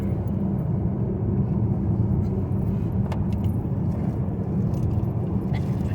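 A car drives along a road on a trip in Norway, a steady low rumble of tyres and engine from inside the cabin, with faint clicks and a voice speaking softly now and then.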